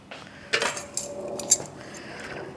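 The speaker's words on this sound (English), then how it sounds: "Now I'm going to put it on a platter." Teriyaki chicken sticks fresh from the oven set down on a platter, giving a few light clinks and scrapes of metal skewers against the dish, close and fairly quiet, with a sharper clatter near the middle.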